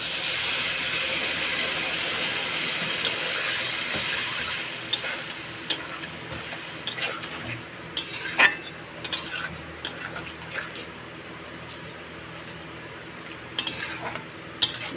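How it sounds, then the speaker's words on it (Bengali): A utensil scrapes and stirs a thick spice paste with eggplant in a pan with a soft sizzle underneath, the scraping steady at first, then irregular clinks and strokes. "এবার ভালো করে একটু কষে নেব"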